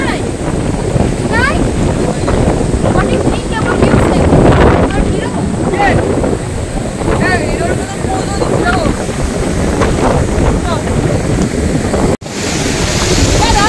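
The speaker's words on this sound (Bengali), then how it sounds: "ঢেউগুলো দারুণ, নীল ঢেউ" Loud sea waves surge and wash against the rocks at Natural Bridge on Neil Island, heavy wind buffeting the microphone throughout, with voices talking over the steady roar.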